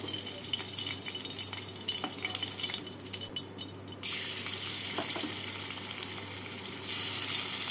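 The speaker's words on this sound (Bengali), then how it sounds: "এইভাবে বাকি মাছগুলোকেও ভেজে নেব।" Pieces of catla fish fry in mustard oil, giving a faint, steady sizzling hiss with occasional light clinks of a utensil, heard quietly and without talk.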